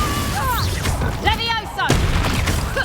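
Confringo and Bombarda spells detonate in quick succession in the Hogwarts Legacy video game, giving short booms and a sharp crack amid busy combat noise and voices.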